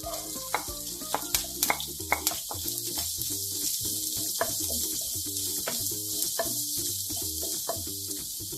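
Sliced onion sizzling and frying in hot oil with green chillies and curry leaves for rava upma, a steady bright hiss with scattered sharp pops and occasional stirring clicks, close and continuous with no talk.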